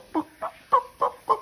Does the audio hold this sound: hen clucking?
yes